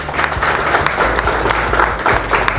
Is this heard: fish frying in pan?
no